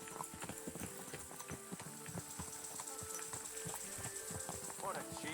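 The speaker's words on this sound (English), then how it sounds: "Watch out with that horse!" Horse hooves clip-clopping in a medieval video game, a steady rhythmic trot of sharp hoof hits over a constant ambient bed, with game voices talking over it.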